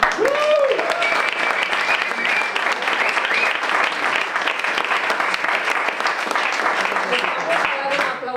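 A storytelling event's audience bursts into sustained, loud applause; a brief voice rises at the start, then dense clapping carries on evenly to the end.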